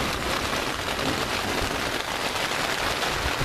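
Heavy rain drums on a tent roof in a constant close patter, an unbroken wash of droplets with no voices.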